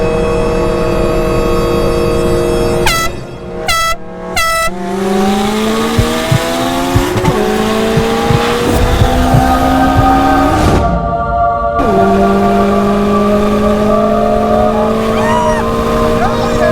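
Lamborghini Aventador SV with open exhaust accelerating hard on a freeway, heard from inside a car: loud rising engine pitch sweeps through several gear shifts, with brief gaps between pulls.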